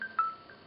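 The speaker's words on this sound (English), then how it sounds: "we'll get a text shortly." Windows Phone 7.5 text message notification: a short, faint electronic chime of a few soft tonal blips, heard alone in a quiet room.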